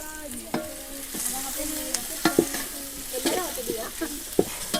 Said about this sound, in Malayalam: നമ്മൾ ഇറച്ചി വറുത്ത എണ്ണയിൽ തന്നെയാണ് കേട്ടോ ഉള്ളി വാട്ടുന്നത്